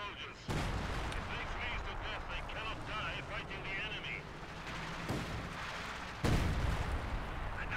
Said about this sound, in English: We do hear artillery barrage landing around here.